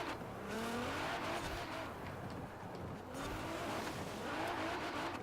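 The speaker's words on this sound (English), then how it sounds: "It's still spinning his wheels." A 1,000-horsepower Nissan Sentra Nismo in the racing game Forza Horizon 4 spins its wheels, producing a continuous roaring engine with wavering tire squeal and skidding that rises and falls across the stretch, loud and up close.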